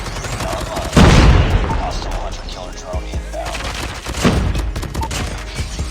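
The Holger light machine gun fires in COD Mobile in loud, sharp bursts of rapid shots, with heavy reports near the start and again later, and a voice talks over the gunfire.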